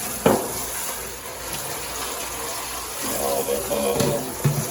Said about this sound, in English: Let me go there, rinse this off pretty good.